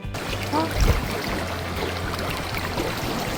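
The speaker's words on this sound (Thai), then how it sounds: "ฟังเสียงน้ำไหลเนี่ยก็ดูน่ากลัวทีเดียวนะคะ" Continuous rushing water flows steadily in the background, a broad, even wash with a faint voice briefly audible early on.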